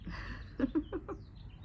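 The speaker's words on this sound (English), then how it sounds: "the birds are going crazy. So with their bird song" Birds sing outdoors, a short run of four or five clear chirps in quick succession, moderately close but soft over a low background hum.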